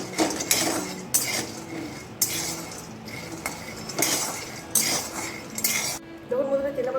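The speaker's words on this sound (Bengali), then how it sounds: "সর্বপ্রথমে চিনি বাদামটা আমি ড্রাই রোস্ট করে নিচ্ছি খুব ভালো মতো করে" Peanuts dry roasting in a pan and being stirred, loud repeated scraping and rattling of a metal spoon against the pan in uneven strokes, then a brief quieter stretch at the end.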